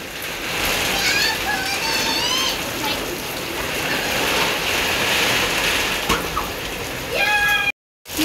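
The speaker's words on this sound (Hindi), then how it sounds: "बारिश इतनी ज्यादा तेज हो रही है।" Heavy stormy rain pours steadily in Karachi, a dense continuous hiss close by, with a cat meowing in short tones and someone talking over it before a brief gap near the end.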